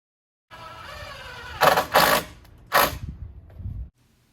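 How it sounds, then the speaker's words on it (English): Small screws driven into a wooden gazebo beam by a power driver, several short whirring bursts separated by pauses over a low mechanical hum, close and clear. "Here I am screwing them in, but I'm just using the small screws."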